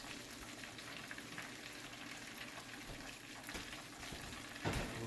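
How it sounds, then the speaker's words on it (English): Fried chicken pieces sizzle in hot oil with a steady, crackling hiss throughout, and a louder spatter comes near the end. "I like the way that's frying, don't you?"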